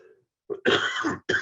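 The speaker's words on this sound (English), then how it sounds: "let me clear my throat here" A single short throat clearing, close and fairly loud, followed by a brief pause and the start of another rough vocal burst.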